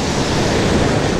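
Big ocean surf rolling in at a beach during a boat launch, a loud, dense wash of crashing water and wind noise filling the short moment with no voices.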